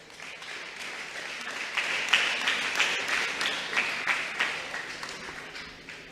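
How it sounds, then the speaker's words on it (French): A church congregation applauds a pastor after his talk, steady crowd clapping at moderate volume that swells in the middle and tapers off, with no speech over it. "Maintenant, on applaudit pasteur Ulrich Scholl pour si bel exposé,"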